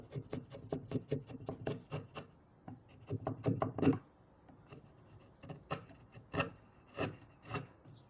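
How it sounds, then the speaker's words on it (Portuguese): A hand-pushed wood chisel pares away material while cutting a small chamfer, giving a series of quick, close scraping strokes in a steady rhythm, then a few slower, spaced-out cuts. "eu estou empurrando o formão com a mão mesmo, removendo o material"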